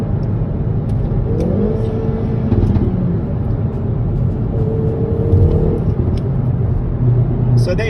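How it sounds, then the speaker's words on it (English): A Hyundai i30N drops from fourth to third with the engine blipping up to match revs, a loud cabin rumble rising and falling between shifts while someone speaks quietly over it. "Let's see if we can get the rev match going."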